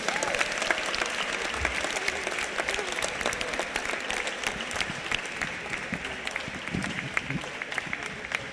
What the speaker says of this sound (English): Please give one more round of applause to these incredible student athletes.